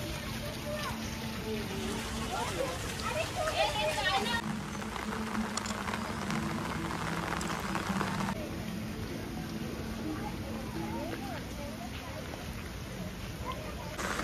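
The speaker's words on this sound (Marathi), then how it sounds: "त्याच्या आतमध्ये पण पाऊस पडतोय वाटतं" Steady rain falls across a city park, a dense, continuous hiss and patter that stays even throughout, with a person's voice speaking intermittently over it.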